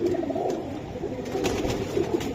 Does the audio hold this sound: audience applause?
no